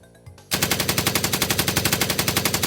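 Machine gun fire as a sound effect: a long, rapid, evenly spaced burst of loud shots after a brief quieter lead-in, continuing without pause.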